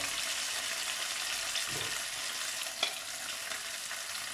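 Butter and oil frying in a pan as tomatoes and peppers go in, a steady close broadband sizzle with brief stirring clatters partway through, no voices.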